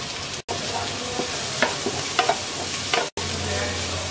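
Carrots, long beans and chopped green and red capsicum stir-frying in a pan, a steady sizzle punctuated by scraping and clinking of the spatula, with two short gaps.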